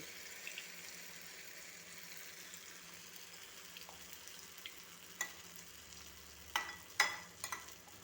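Jackfruit fritters (chakkapori) fry in hot oil, giving a soft continuous sizzle with occasional sharper splashes and clatters of a ladle toward the end, fairly quiet and close, with no voices.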